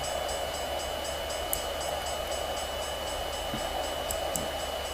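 Train in the Train Simulator 2016 video game rolls slowly into a station platform on the way to Long Branch, giving a steady mechanical rumble with a constant whine and a regular pattern of light clicks, with no talk.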